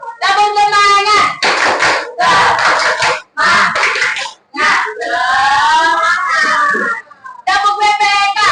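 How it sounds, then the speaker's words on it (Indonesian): Children chant the tepuk semangat clapping routine in a classroom, loud voices in unison broken by bursts of hand claps, in several short phrases with brief pauses between them. "Tepuk semangat."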